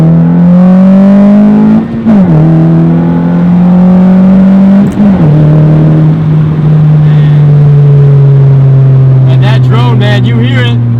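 A Honda Civic Si engine of about 200 horsepower pulls hard through the gears, its rising drone broken by two quick shift dips, loud and close from inside the car.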